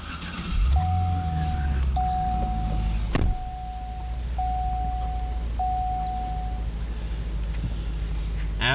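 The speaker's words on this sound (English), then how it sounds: "That's the seat belt telling me to buckle up" Seat belt warning chime inside a 2011 Cadillac CTS-V coupe: a steady series of five evenly spaced electronic tones ringing over a low engine idle after startup, with a brief click partway through.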